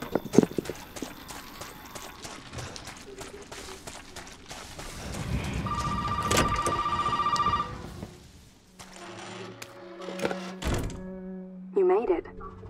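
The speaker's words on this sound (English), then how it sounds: "Or maybe I answer the phone first." An old telephone rings in the horror video game Resident Evil 7, a bright electronic bell trill in the middle of footsteps, thumps and game ambience, with a person talking over it.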